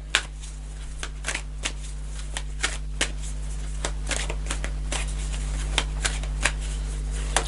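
Tarot cards are shuffled by hand in a series of soft, crisp riffling clicks that repeat irregularly over a low steady hum, with no one speaking.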